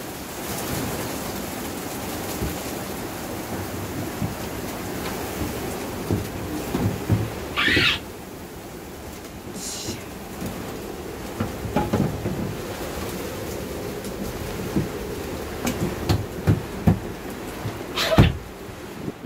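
Steady rain pours during a storm aboard a sailboat, a dense continuous hiss with occasional knocks and bangs of gear on the boat and a sharp crack near the end, no talking.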